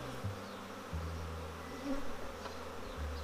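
Honey bees buzz steadily at a beehive whose queen is missing, a dense, continuous hum close by with wavering pitch and no voices.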